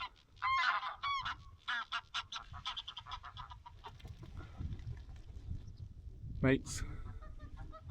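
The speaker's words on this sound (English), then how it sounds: "Trying to work out if they're geese or ducks. I think the geese." Geese honk repeatedly near a mountain tarn, a burst of loud calls early on, then scattered honks and one sharp close call later, with brief talk and outdoor wind noise.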